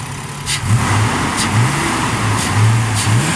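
A 2004 Ford Ranger Edge pickup truck engine with a clutch fan revs up a few times over a steady idle, close by, with rising and falling pitch.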